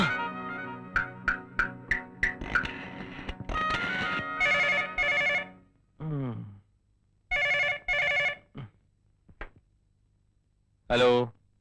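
A telephone rings in a Malayalam film scene, with several clipped bell-like bursts followed by a repeated loud electronic ring pattern separated by short pauses, clear and close, with no speech over it.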